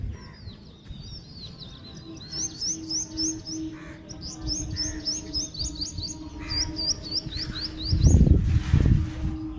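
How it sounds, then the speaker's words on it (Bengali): Small birds chirp repeatedly from a rooftop garden in the morning, bright quick trilling phrases in bursts over a low steady hum, with a louder rumble and breathy noise near the end. "দেখো পাখি ডাকছে।"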